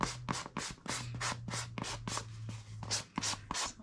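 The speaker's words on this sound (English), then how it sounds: "So I am just going along this with the sanding block." Steady back-and-forth rasping of a sanding block on a surface, about a dozen rhythmic strokes, close and fairly loud with no talking.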